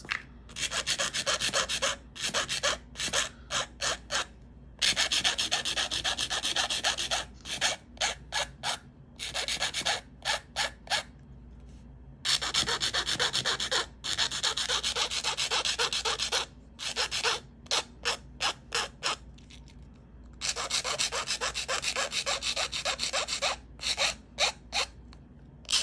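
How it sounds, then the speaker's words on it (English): Nail file rasping back and forth across fingernail edges, close and crisp, in quick bursts of rapid strokes separated by short pauses, with no talking. "doing is filing off the edges with my nail file like this."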